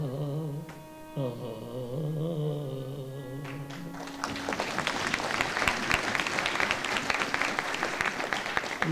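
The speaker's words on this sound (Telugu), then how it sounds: "అట్లా చప్పట్లు పెట్టారంటే సక్సెస్ అనమాట" Audience applause at a Telugu poetry recital breaks out about halfway through, following a sung, melodic verse; the clapping is dense and sustained, filling the rest of the clip.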